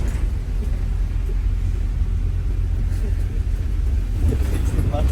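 Steady low engine rumble and road noise from inside a moving bus in London, continuous throughout, with faint indistinct voices in the background.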